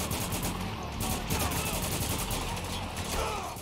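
Gunfire from the video game Spec Ops: The Line rattles on continuously in dense bursts, with a faint background voice now and then.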